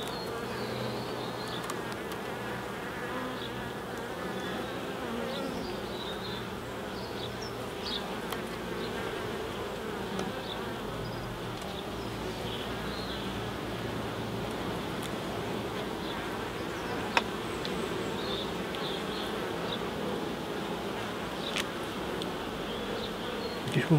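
Honey bees buzzing steadily around an open hive in a UK apiary, a dense continuous hum close by, with occasional faint clicks of hive parts and no speech.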